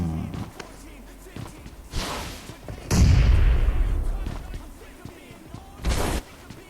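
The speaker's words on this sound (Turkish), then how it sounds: "Şimdi ona bir bomba atıyorum." A grenade blast in the mobile battle royale game PUBG Mobile lands as a loud, booming burst near the middle, preceded and followed by sharper gunfire-like cracks, with a player talking over the game.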